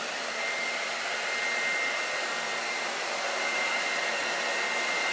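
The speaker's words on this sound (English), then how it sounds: "I just let the blow dryer sit in my hand" A handheld blow dryer runs steadily during a haircut, giving a constant close whooshing roar with a faint motor whine and no break or voices.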